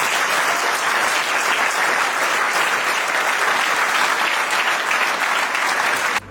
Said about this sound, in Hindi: मैं चाहता हूं कि सब लोग इस लड़के को खड़े होकर के तालियां दें.